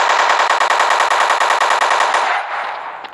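Sustained automatic gunfire in a zombie video game, likely an AK rifle, firing in a loud, steady rapid rhythm for over two seconds before trailing off with a fading echo.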